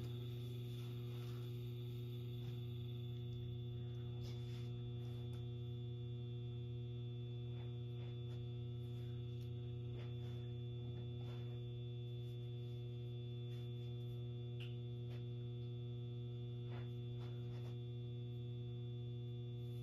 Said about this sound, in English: The ballast is kind of loud.